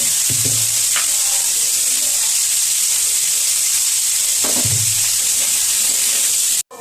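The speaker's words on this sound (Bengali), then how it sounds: "এবার ফুলকপিগুলো একটু নুন দিয়ে ভেজে নেব।" Cauliflower pieces fry with salt in a pan, giving a loud, continuous sizzle and hiss throughout, with a couple of brief clinks from stirring, close up, before cutting off abruptly at the end.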